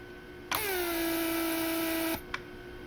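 A repaired door lock vacuum pump on a Mercedes-Benz W140 S-Class whirs steadily at close range for about a second and a half, then cuts off, followed by a short click.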